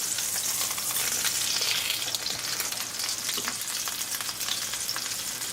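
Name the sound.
coconut breaded chicken breast turned over, frying in pan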